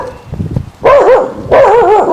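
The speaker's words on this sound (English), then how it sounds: "Hold on, let me quieten the dog." A dog barks twice, loud and close, each bark a drawn-out, wavering yelp with a pause between, following a few softer low sounds.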